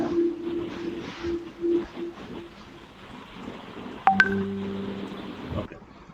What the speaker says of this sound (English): I guess I have some notification.